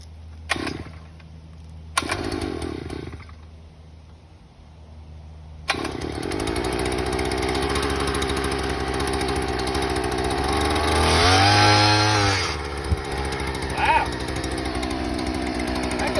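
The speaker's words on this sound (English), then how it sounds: "Alright, is there a choke? Cold start." A small engine on a homestead fencing job is cold-started with the choke set. After a few short bursts, it catches and runs steadily and loud close by, with its pitch rising briefly near the end.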